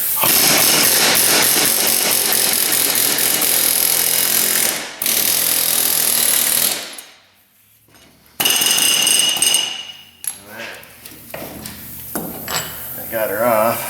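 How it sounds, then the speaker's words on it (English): Pneumatic air hammer rattling hard against the front axle of a Dodge Dakota, loud sustained bursts with a brief pause and a stop, then a quieter stretch of short knocks and scraping. "So we'll rattle on a little bit with the air hammer."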